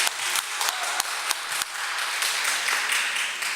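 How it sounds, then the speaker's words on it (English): Audience applause fills a press conference room, a dense steady patter of many hands with a few sharper individual claps standing out, sustained and fairly loud throughout. "You can clap for that."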